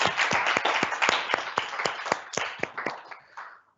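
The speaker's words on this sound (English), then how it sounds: "do give a round of applause to all the panelists who have taken part and all the students for asking questions" A round of applause for panelists and students at a Trafford College student question time event: distinct hand claps from a smallish group, dense at first, then thinning and fading out near the end.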